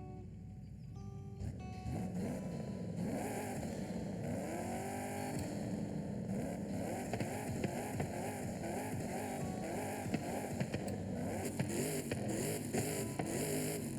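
Steady engine rumble from a car's race exhaust in the racing game Forza Horizon 5, droning continuously with rising and falling revs throughout, fairly loud and without talk.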